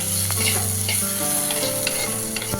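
Horse gram curry fries and sizzles loudly in a pan while being stirred, a dense close hiss with scraping spoon strokes throughout.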